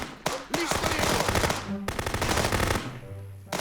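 Rapid automatic gunfire in a police video game, loud, dense bursts of machine-gun shots running almost continuously with brief gaps, close and alone without talk.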